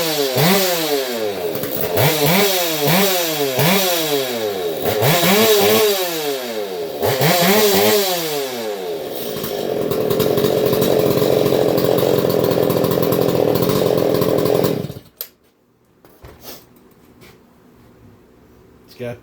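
A stock chainsaw engine runs loud and close, revving in rising and falling bursts before settling into a steady high idle and then cutting off abruptly, leaving near silence.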